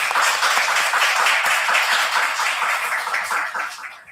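A church congregation at a Sunday service applauds together, a dense, sustained wash of many hands clapping that fades gradually toward the end.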